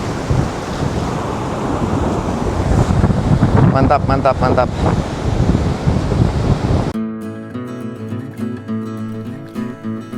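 Ocean waves wash steadily onto Krakal beach in Gunung Kidul, a wide white-sand beach. The surf is heard as loud, continuous rushing mixed with wind buffeting the microphone, and a brief spoken exclamation comes before music takes over partway through.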